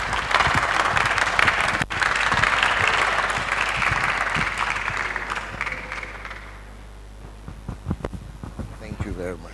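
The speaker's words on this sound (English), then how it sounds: "Please welcome him with a round of applause." A lecture hall audience applauds to welcome the chairperson, a dense, steady round of clapping for about six seconds that fades out, followed by scattered footsteps and shuffling.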